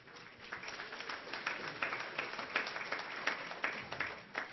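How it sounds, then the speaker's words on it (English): A lecture audience breaks into sustained applause, a dense, even wash of clapping that holds at moderate volume throughout. "Now you applaud."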